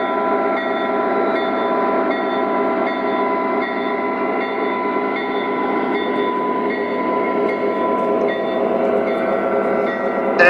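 O gauge model train led by an EMD SD38 locomotive hauling a resin and plastics train, a steady close rumble and rolling clatter with humming tonal whine, continuous and even throughout.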